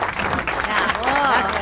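Studio audience applause welcoming a guest to a talk show set, steady dense clapping throughout with voices audible over it.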